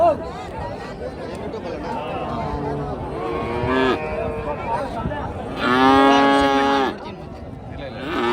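Young calves moo repeatedly at a small-calf cattle market in Chintamani, loud drawn-out calls close by over a murmur of crowd chatter and voices.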